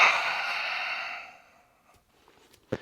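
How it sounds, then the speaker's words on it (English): A long, sighing exhale during guided yoga breathing, close and breathy, fading gradually into near silence, followed by a faint soft click. "And breathing out."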